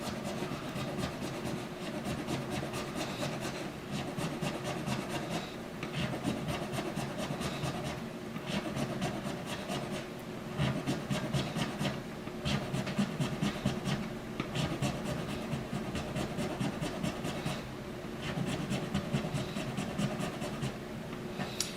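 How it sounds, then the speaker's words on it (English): A Martin guitar saddle is sanded down with short strokes, a steady close-up rasping rub of wood on abrasive repeated continuously with no talking. "So keep your stroke short and just come in and sand that down."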